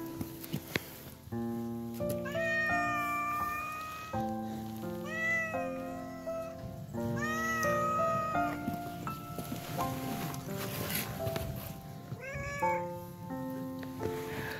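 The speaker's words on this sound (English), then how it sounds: "So this is the cat staying over here" A cat meows repeatedly in long drawn-out calls, loud and close, over a steady background hum.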